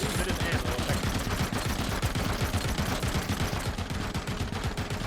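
Rapid sustained enemy gunfire in the Robocop: Rogue City game; loud, continuous machine-gun-like volleys with dense rhythmic shots filling the whole stretch.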